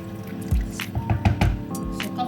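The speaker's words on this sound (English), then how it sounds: "Okay guys, let's add water to it." Water poured into a pot of melon pepper soup on a gas stove, giving a string of close splashes, drips and squishy liquid sounds.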